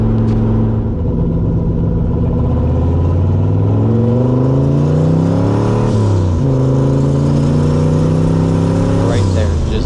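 Turbocharged small-block Chevy in a C3 Corvette revs loudly with rising and falling pitch, its tone wavering and breaking up in sputtering stumbles, steady and close throughout.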